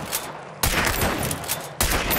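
Loud bursts of gunfire in the video game Hunt: Showdown, two sharp close shots each followed by a heavy echoing blast, with no talk.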